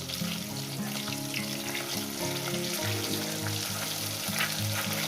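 Fish pieces fry in hot oil for a spicy fish curry, giving a steady loud sizzle with bubbling crackle throughout, and no voices.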